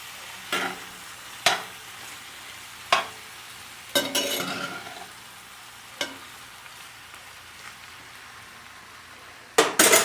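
Potatoes being stirred in bacon grease inside a Dutch oven: sharp metallic scrapes and clanks of a utensil against the pot at irregular intervals over a faint, quiet sizzle, with a burst of clattering at the end.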